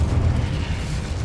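A fire spell, Incendio, cast in the wizarding game Hogwarts Legacy: a dense, low rumbling whoosh of flame that roars steadily and close for just over a second, with no speech.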